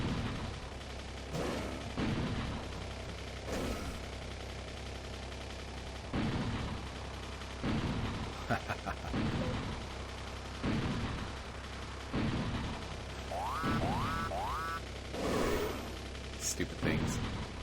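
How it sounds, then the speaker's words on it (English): Tank cannon in the Factorio video game firing at alien worms, a series of booming game shots repeating every second or two across the stretch, loud and close, with other in-game effects between blasts and no talk. "We should be able to take this out actually with the tank."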